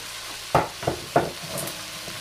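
Chicken gizzard and heart stir-fry with vegetables being stirred in a pan, several scraping utensil strokes over a steady low sizzle, close and moderately loud with no talking.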